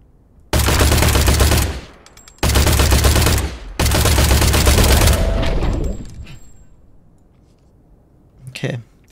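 Shotgun blasts in the video game Industria: three long, loud bursts of rapid firing in quick succession, each ringing out before a faint metallic clatter near the end.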